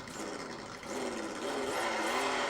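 A miniature V8 engine sound from a Meus Micro RC sound module, with a lumpy cam idle that holds steady and thickens slightly toward the end, played alone.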